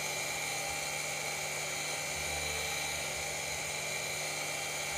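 A grinder sanding a fiber shoe heel makes a steady, high-pitched grinding whine that runs continuously, close and fairly loud, with no pauses or talking.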